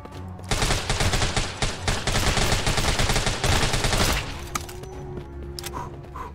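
Rapid automatic gunfire in the zombie game Deathly Stillness, a dense, loud burst of shots lasting several seconds, then it stops abruptly, leaving quieter game sounds and a faint tone.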